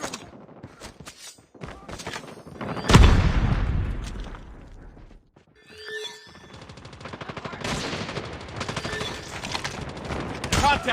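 Video game gunfire comes in bursts of rapid automatic shots and heavy booming impacts, loud and close, with a brief lull before clattering fire resumes and continues to the end.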